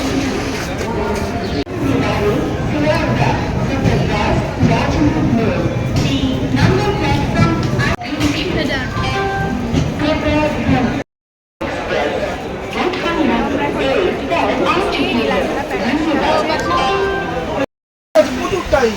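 Crowd at Siliguri railway station, a dense murmur of many voices filling the platform with nearby speech and pigeon coos, with a couple of short dropouts.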